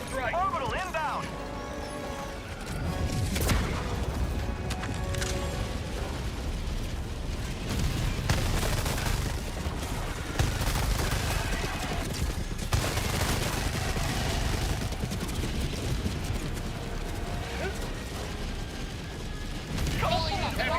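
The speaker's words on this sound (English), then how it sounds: "Calling in orbital strike. Orbital inbound." Orbital strike explosions and gunfire in a video game battle, a continuous loud barrage of rumbling blasts and rapid bursts with voices speaking over it.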